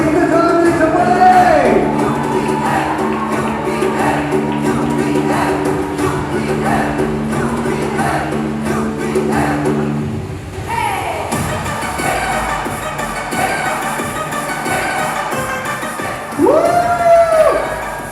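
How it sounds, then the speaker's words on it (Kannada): At a women's cricket league auction event, a crowd applauds and cheers loudly during a trophy reveal, with shouts and whoops over music, and a louder surge near the end. "ಬಲಿ ಈಗ ಜೋರಾದ ಚಪ್ಪಾಳೆ."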